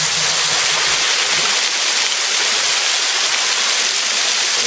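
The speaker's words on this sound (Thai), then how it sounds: "เป็นไง น้ำตกของเรา สุดยอดไหม" A village waterfall in Mae La Mat roars in a loud, constant, close rush of falling water, with no talk over it.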